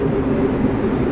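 A Paris-style metro train pulling into a station, a loud continuous low rumble and hum held steady and close for about a second, with no voices.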